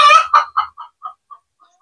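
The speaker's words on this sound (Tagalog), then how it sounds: "Sensya na mga paps at maingay ang manok." Chicken clucking close by, a loud burst of squawking that breaks into a string of shorter clucks, each fainter than the last, trailing off into quiet.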